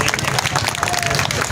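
An audience at a roundabout inauguration ceremony breaks into a brief burst of dense, lively clapping, with crowd murmur and voices mixed in.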